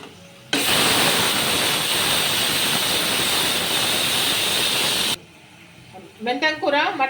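Mutton simmering with fenugreek leaves in a cooking pot produces a loud, steady hiss and bubbling roar that cuts off abruptly, followed by a person talking in a quiet room.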